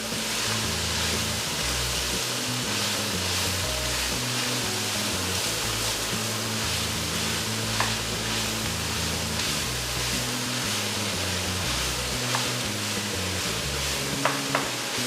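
Beef chili ingredient warming in a pan gives a steady, even sizzle and hiss throughout, with a few faint clicks and taps, close and continuous with no talking.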